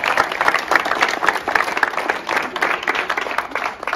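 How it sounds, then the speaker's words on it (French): Audience applause at the inauguration of a high school's shop in Malestroit, a dense, steady patter of many hands clapping close by for the full stretch, with a few voices faintly mixed in. "Voilà, on peut applaudir, bravo."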